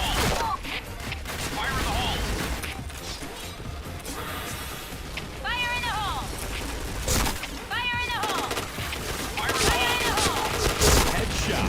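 Rapid gunfire in a first-person shooter video game, repeated bursts of shots with electronic effect sounds between them, loud and busy under excited talking.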